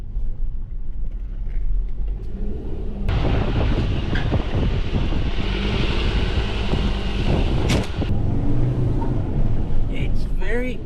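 A car driving along a sandy, hilly track through vegetated dunes, with steady engine rumble, loud wind buffeting the microphone and occasional bumps, while a person talks inside.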